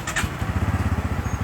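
A new motorcycle engine, a model offered with single- or dual-channel ABS, idles nearby in a steady low chugging pulse, loud and even, with no talk.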